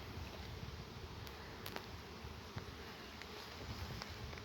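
Honeybees bringing nectar into a beehive give off a dense, continuous buzzing drone, close and steady, with a few individual bees passing nearer and briefly louder.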